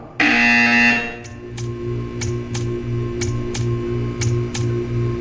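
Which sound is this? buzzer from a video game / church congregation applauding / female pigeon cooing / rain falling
buzzer from a video game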